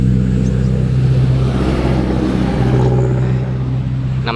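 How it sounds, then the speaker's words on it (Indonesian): Heavy trucks and other vehicles streaming along a busy roadside highway, a loud, continuous low engine drone with steady rumbling, heard close by and without speech. "Banyak truk lewat."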